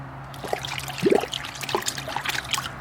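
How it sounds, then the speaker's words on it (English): Liquid car cleaner trickles and dribbles into a container in short, uneven pours, with gurgles and small splashes, fairly close and quiet. "So this was a little bit more difficult to pour, but I've got 3 ounces."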